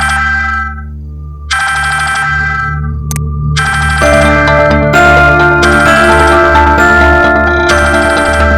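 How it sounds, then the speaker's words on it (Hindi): A bright electronic phone ringtone melody plays late at night in repeating bursts with short gaps, loud and close, over a low steady hum. "सोना इतनी रात को फोन क्यों कर रही है? नहीं उठाना।"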